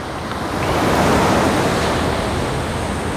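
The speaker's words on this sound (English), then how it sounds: "the ocean is as flat as a tack this morning" Continuous broadband wash of ocean surf on a calm, flat early-morning sea, steady and fairly loud with a slight swell in the middle and a touch of wind on the microphone.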